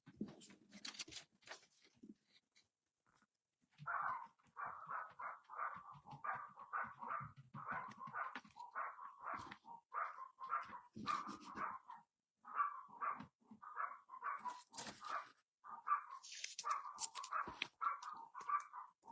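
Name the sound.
dogs barking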